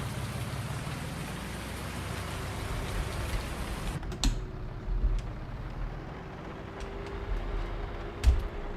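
Rain falls steadily in Farming Simulator 2019, a dense hiss with a low engine drone beneath, then becomes a softer patter with scattered drops and a few thuds.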